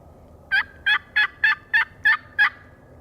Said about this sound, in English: Just had a bird gobble